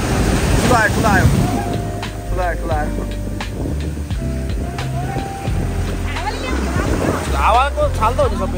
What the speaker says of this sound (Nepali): हावाको छाल त हो नि सबै